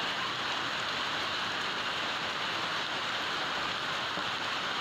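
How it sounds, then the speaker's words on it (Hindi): Heavy rain with large hailstones falling over Uttar Pradesh makes a dense, steady, even hiss throughout, loud and unbroken, with no voices. "कहां किसी ने सोचा था कि इतने बड़े बड़े ओले गिरेंगे"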